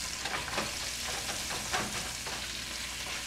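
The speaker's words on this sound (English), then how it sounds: "Now, the chorizo is still cooking" Chorizo and jalapeno sizzling and frying in a hot pan, a steady close crackle with a few soft stirring scrapes, no voices.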